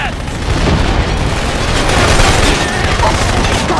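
Dense, continuous machine gun fire and explosive booms fill a battle in the video game Killzone 2, loud and close, with heavy rattling bursts running throughout without pause.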